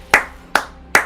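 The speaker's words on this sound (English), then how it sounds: "Hand clap." Three sharp hand claps, close and evenly spaced about half a second apart, each ringing briefly before the next, with no other sound around them.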